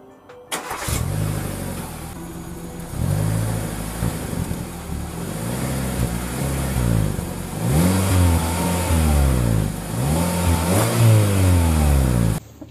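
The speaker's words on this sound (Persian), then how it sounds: "حالا یه صدای گاز هم بشنویم ازش." An old Hyundai i10 with a 1.5-litre petrol engine starts, then revs repeatedly: several rising and falling throttle blips, with the last ones quicker and higher, heard up close without talk.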